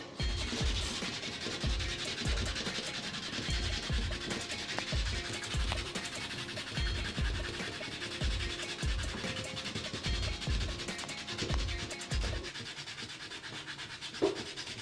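A wet, soaped grill brick scrubbed by hand in steady back-and-forth strokes, a close, continuous gritty rasping that keeps a regular rhythm throughout with no talking.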